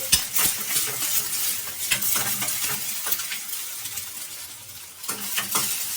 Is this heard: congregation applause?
no